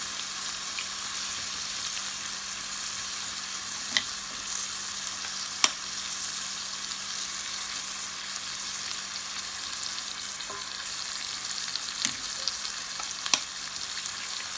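Three eggs fry and get stirred in with cooked chicken for noodles, giving a loud, constant sizzle with occasional sharp spatula clicks against the pan spaced several seconds apart.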